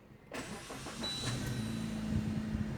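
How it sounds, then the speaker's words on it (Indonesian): A 2017 Suzuki Ignis with a manual gearbox fires up from its push-button start-stop system: a short starter crank catches into a close, steady idle hum. "untuk menyalakan kendaraan ini hanya tinggal pencet tombol engine start stop"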